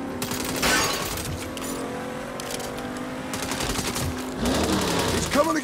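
Rapid automatic gunfire in the video game Saints Row, heard in several bursts of crackling shots amid game sounds and shouting voices.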